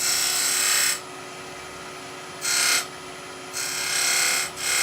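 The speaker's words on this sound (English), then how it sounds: "We are going to do a little V cut here" A skew chisel cuts a small V groove into wood spinning on a lathe, a loud bright rasping whine coming in three bursts separated by quieter lathe hum.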